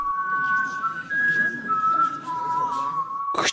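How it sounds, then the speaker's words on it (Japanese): A long, steady whistled melody in the middle register carries across nearly the whole stretch, over a busy murmur of background crowd noise, and a brief sharp burst cuts in just before it ends. "口笛。"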